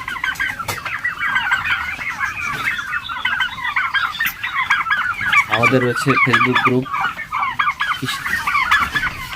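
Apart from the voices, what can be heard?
turkeys clucking on a farm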